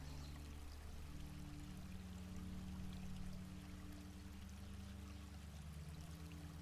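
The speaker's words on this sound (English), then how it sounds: "You can dip your bare feet in the slow-moving stream." A slow-moving stream flows steadily as a soft, continuous wash of water, faint and even throughout with no voices.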